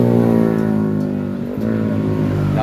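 Motorcycle engine revving close by on a ride along Marilaque, a loud harmonic drone that dips briefly mid-clip and then climbs again to a strong steady pitch.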